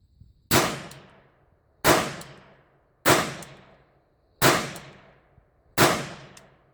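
Five shots from a French Mle 1892 Lebel revolver in 8mm French Ordnance, each a loud, sharp report with a quick ringing decay, fired at a steady pace about a second and a quarter apart, close by.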